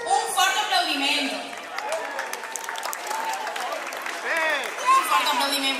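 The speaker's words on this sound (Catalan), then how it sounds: "Un fort aplaudiment." A crowd at a popular dinner and costume contest at a modernist fair in Carcaixent applauds steadily for the winners, a broad sustained wash of clapping with voices and cheers mixed in throughout.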